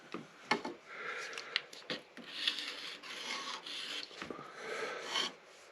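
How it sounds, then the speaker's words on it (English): A knife blade is drawn across a wet 1500 grit whetstone in repeated rasping strokes, close and fairly quiet, with small ticks between passes. "Take my 1500 grit stone"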